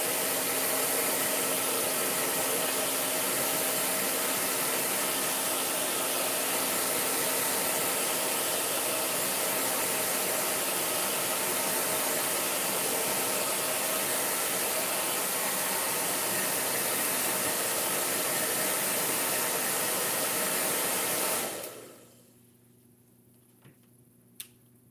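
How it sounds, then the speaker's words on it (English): A hair dryer blows steadily on fresh paint on a model rocket, a loud continuous whooshing hum close by that runs for about twenty seconds before abruptly cutting off to near silence. "I'm gonna probably hit this with a little bit of hair dryer."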